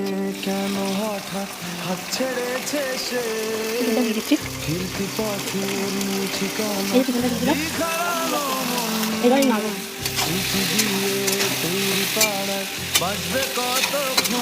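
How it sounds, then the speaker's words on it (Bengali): Chicken and onions sizzle in hot oil in a steady, bright crackle while something stirs the pan, and a tonal hum with wavering pitches runs beneath throughout. "এবার এই চিকেনটা দিয়ে পেঁয়াজটা একটু ভাজা ভাজা হয়ে যাবে"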